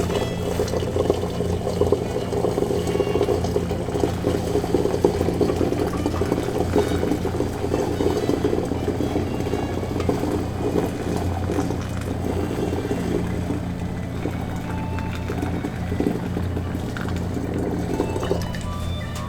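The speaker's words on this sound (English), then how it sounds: "I'm going to very carefully pour it through the funnel into my container." Boiled dandelion tea poured carefully through a funnel into a container, a steady close gurgling and splashing stream running continuously without a break and with no voices.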